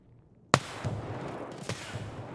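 Gunfire in the video game EXFIL on the Factory map: one sharp, loud shot followed by a fainter second report about a second later, with a low game ambience running underneath.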